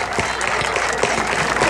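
Crowd applause rolls steadily through a rodeo arena as riders of Ganaderías Unidas de Autlán and Rancho El Origen are welcomed, a continuous wash of clapping at moderate distance with faint voices mixed in.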